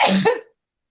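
A single short, sharp sneeze, close and loud, ending abruptly into silence.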